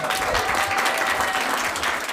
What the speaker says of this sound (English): With cheers and applause